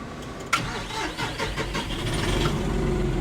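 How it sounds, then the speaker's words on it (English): A John Deere 5075E tractor engine cranks with a sharp start, then settles into a steady mid-pitched idle that swells slightly, close by. "John climbs into the cab of a John Deere 5075E."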